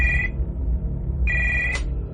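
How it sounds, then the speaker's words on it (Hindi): A telephone rings twice in short electronic trills over a low background rumble, the second ring ending in a brief click. "ठीक 15 मिनट के बाद मेरा फोन फिर से बजा"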